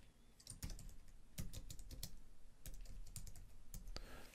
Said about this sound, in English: then type in your words